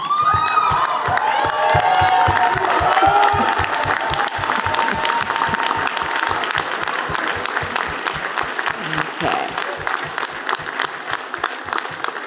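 Graduates at a 2014 convocation ceremony give a sustained round of loud, dense applause, with cheers and a few whoops rising through the clapping crowd for the full stretch.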